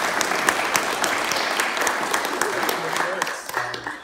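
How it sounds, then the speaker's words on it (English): An audience applauds a panel of speakers at an evening engineering-teams event, a steady dense wash of many hands clapping that carries on throughout without spoken words. "If we could give them a little round of applause"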